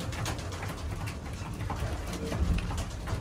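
Racing pigeons coo softly and continuously in a loft, their low murmuring blended with a steady noisy background and no clear pauses.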